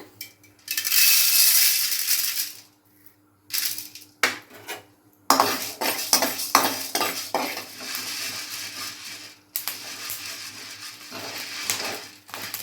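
Sorghum grains roasting dry in a pan to make popped-sorghum flour, with brisk scraping and rattling stirs that come in bursts separated by short pauses, close and fairly loud.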